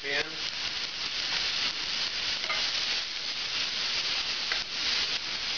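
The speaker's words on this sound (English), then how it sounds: "Now, right away to the same hot pan, we're going to add the mirepoix, carrots, celery, onions." Carrots, celery and onions for mirepoix sizzling in a hot pan, a dense steady hiss with stirring scrapes throughout, and a brief voice at the start.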